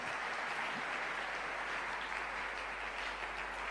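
A church congregation gives loud, sustained applause and cheering in praise of the Lord, a dense even roar filling the room without a break.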